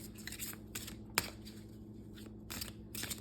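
Soft, close rustling and flicking of tarot cards being shuffled in short bursts, with a sharp snap partway through, quiet overall.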